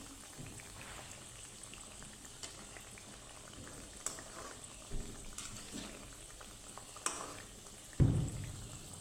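Thekua dough pieces deep-frying in hot oil, a steady bubbling fizz throughout with a few soft clinks and a louder knock near the end, no voices.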